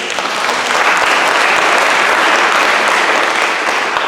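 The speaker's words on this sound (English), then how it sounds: "stop clapping, I'm always running out of time" Loud, dense applause from a large audience, continuous clapping without pause throughout.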